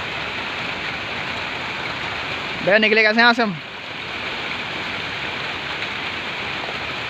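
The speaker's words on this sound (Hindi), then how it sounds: "देख लो भाई बारिश हो रही है फुल रफ्तार में" Heavy rain pours down steadily in a broad, hissing wash of water, loud and constant throughout, while someone speaks briefly over it partway through.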